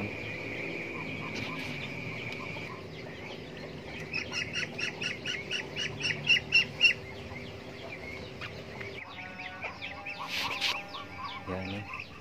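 Muscovy ducks (entok) call in a quiet farmyard, a rapid series of soft, breathy pulsed chirps rising in a burst mid-clip, with other fowl clucking faintly and some low background noise.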